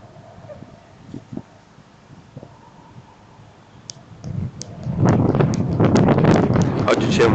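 Strong wind buffets an outdoor microphone on a road above the village of Tarsia, quiet at first then building into loud, continuous rumbling gusts in the last seconds, with someone speaking.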